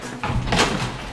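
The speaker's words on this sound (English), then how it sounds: "Close this door." A door swings shut with a single short, fairly loud thud, heard close and alone.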